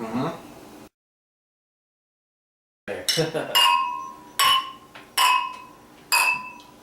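Beer glasses of barrel-aged Grand Cru ale clink in a toast: several bright ringing chinks in a row after a brief silence, close and clear.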